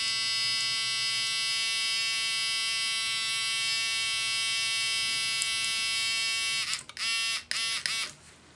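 Dandy 2-speed powder trickler motor running on high speed, a steady loud electric buzz held for nearly seven seconds, then cutting off into a few short stuttering bursts, heard up close with no talk.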